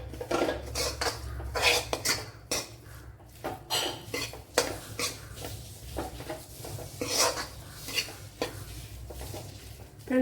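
A spoon scrapes and clinks steadily against a metal pan as chicken masala is sautéed, with irregular metallic knocks and scraping strokes over a low background hum.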